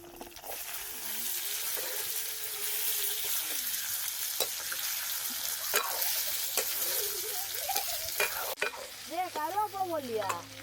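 Spices dry-roasting in a pan for a chilli-based kuzhambu, a steady close sizzle with occasional stirring clicks, and a voice briefly rising over the hiss near the end.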